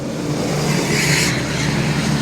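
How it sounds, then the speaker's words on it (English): A loud Lamborghini Aventador SVJ exhaust drones steadily up close, a deep engine rumble with a rising whoosh partway through. "We got exhaust microphone on this thing and let's see what it does"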